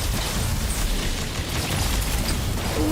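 Heavy weapon fire, such as a railgun or plasma cannon, in the alien-themed Fortnite Chapter 2 Season 7, heard as a dense, continuous roar of blasts and booms that stays loud for the whole stretch.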